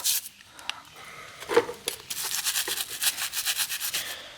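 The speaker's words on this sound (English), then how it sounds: "I'm going to scrub this with" Bristles scrub a bike freewheel with dish-soap water in a bucket, a run of quick rhythmic brushing strokes building into a steady back-and-forth rasp, close and fairly loud, with a wet clink partway through.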